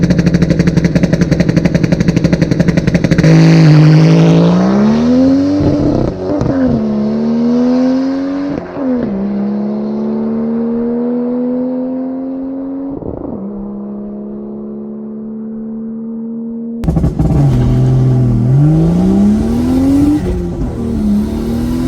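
A turbocharged 3.2 engine in a Mercedes W203 revs hard on launch control, holding a loud, steady high-rpm drone with small wavers, then cutting out and climbing again in a rising rev, very close.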